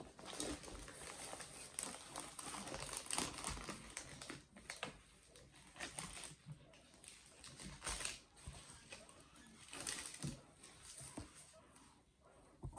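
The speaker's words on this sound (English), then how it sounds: "I'm going to move you over here whilst I unwrap it" Plastic packaging crinkles and rustles as a Diamond Art Club diamond painting kit is unwrapped close by, in irregular bursts with brief pauses, and faint voices in the background.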